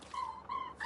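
A pet dog in the Lego Fortnite video game whimpers, giving a few thin, high whines in short bursts with brief gaps between them, close and fairly soft.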